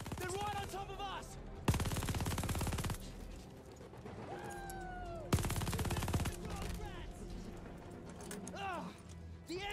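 Two long, loud bursts of rapid machine gun fire hammer away in a Call of Duty Vanguard battle, each lasting over a second, separated by shouting voices and distant battlefield noise.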